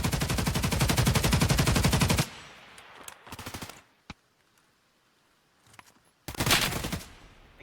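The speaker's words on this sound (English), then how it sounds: "Again, a lot of gunfire going off without too many casualties." Automatic weapon fire from an esports shooter match, with a dense sustained burst of rapid shots at the start, then scattered single cracks, a quiet lull and another burst near the end.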